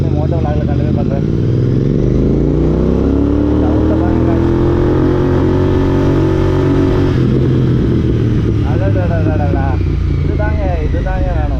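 A motorcycle engine pulling away and riding off, a loud, continuous close drone that rises and falls in pitch as it accelerates, with shifting rev changes and no talk.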